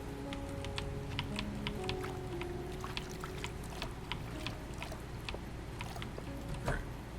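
Steady rain in the farming game Stardew Valley, a soft continuous patter with scattered clicking drops and a low hum underneath, heard alone at moderate volume.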